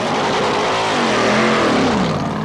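Corvette race car pulling away from the pits at the Spa Racing Festival, a loud, close engine roar climbing steadily in pitch as it accelerates, with no voices.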